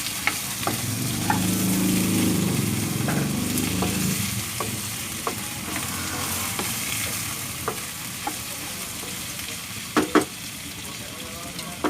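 Onion and garlic sautéing with chicken in a pan for Filipino chicken adobo, a steady close sizzle and frying hiss with scattered clicks of stirring, running throughout without talk.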